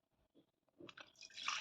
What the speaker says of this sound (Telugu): కొన్ని వాటర్ పోసుకోవాలి.